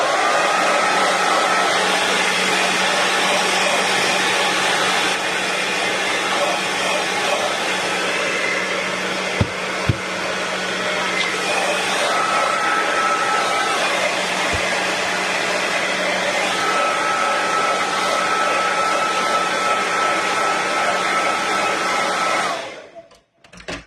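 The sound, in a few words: heat tool drying paint on a craft tag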